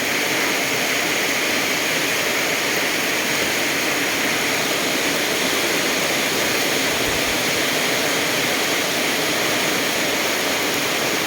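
Strong floodwater rushes past the front of a house during heavy rain, a loud, unbroken roar of pouring and flowing water that holds steady throughout with no voices.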